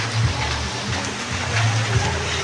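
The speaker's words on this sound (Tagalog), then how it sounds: "malakas ng ulan. Lumalakas na." Steady, dense rain falls outdoors in Mindanao as a typhoon approaches, a constant loud hiss with low rumbling patter close around the listener.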